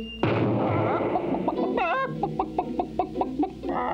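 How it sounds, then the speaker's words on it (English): A cartoon chicken clucks in a rapid series of short, bright, close calls after a sudden loud onset, the clucks repeating rhythmically and fairly loud. "Wow, what a chicken."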